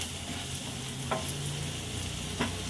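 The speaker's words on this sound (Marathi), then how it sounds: "मीठ ॲड केल्यानंतर पुन्हा हे परतून घ्यायचं आहे।" Smashed potato filling sautéed in a hot spiced tempering for vada pav, a steady close sizzle with two soft scraping stirs of a spoon through the pan.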